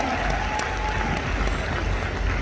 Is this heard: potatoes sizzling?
no